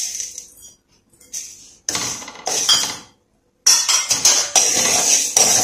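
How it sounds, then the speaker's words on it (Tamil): Coriander seeds and black pepper dry-roasting in a pan, rattling and clinking close up in busy bursts separated by brief pauses. "அப்படி நம்ம ஒன்று ஒன்றா போட்டு வறுத்தரலாம்."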